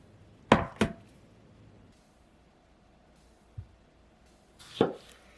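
A knife chops tomatoes roughly into pieces on a cutting board: two quick close thuds, then a lone softer tap, then one more firm chop, with quiet between.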